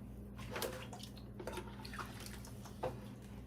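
Water is poured over soil blocks indoors, making a faint, uneven trickle and patter with a few splashy drips. A low fan-like hum runs steadily underneath.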